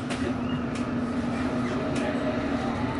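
A steady rumbling roar inside a moving underground train, with a constant low drone and rattling, no talking.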